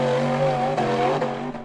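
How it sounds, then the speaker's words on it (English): A white steel-frame off-road buggy climbing a dirt hill, its engine roaring loud and close at high revs with a steady, strained tone that fades slightly at the end. "The white steel frame buggy charged hard up the dirt slope"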